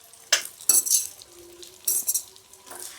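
Cashews fry in a pan for dry fruit laddu, with a spoon stirring and scraping in a few sharp bursts and clinks over a soft, steady sizzle, close and with no voices.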